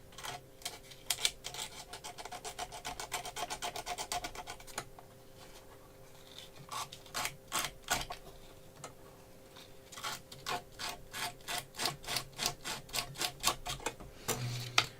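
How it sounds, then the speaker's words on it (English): Battery terminals on a 1970s Pye 1404 Tempest being scrubbed with sandpaper, heard as quick bursts of rhythmic scratching strokes separated by short pauses, fairly close and moderately quiet. "I'll just give them a go with some sandpaper."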